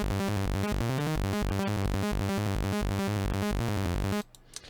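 A neurofunk arpeggiated synth built on the default Serum patch pulses in fast, steady, loud repeating notes, then cuts off abruptly near the end.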